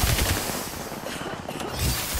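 Dense, continuous gunfire rattles through an Apex Legends match at a steady, loud level, with heavier bursts at the start and end.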